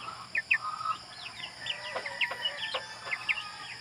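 Broiler chickens on a farm cluck in scattered short calls, some sharper than others, at moderate distance with a low background hum.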